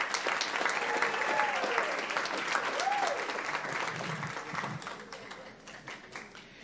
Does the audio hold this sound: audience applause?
yes